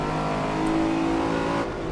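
A Lamborghini Countach in Assetto Corsa at Barcelona holds a loud, sustained engine drone with a steady, slightly rising rev, close and continuous, with no talk over it.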